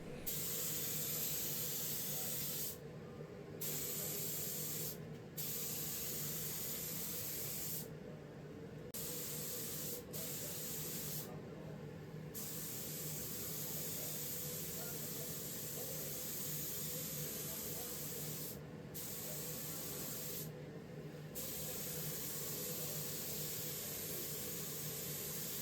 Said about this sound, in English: now I'm spraying the first coat of primer